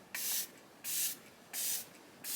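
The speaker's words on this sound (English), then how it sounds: "I'll zoom you in so you can see the spray, but it's quite a nice gentle mist" Indeed Laboratories moisture mist face spray pumped four times in a steady rhythm, each a soft, close hiss of fine mist lasting about a third of a second, separated by short quiet gaps.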